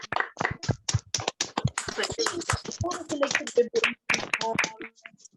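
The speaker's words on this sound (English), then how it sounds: "Can we all unmute ourselves and just give ourselves a round of applause for being here?" Online meeting participants unmuted clap in scattered, uneven bursts, individual sharp hand claps from several microphones overlapping, with some talking mixed in.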